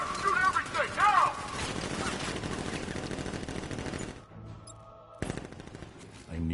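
Batmobile guns in Arkham Knight firing rapid bursts under a shouting voice and game sounds, then breaking off before a last short flurry.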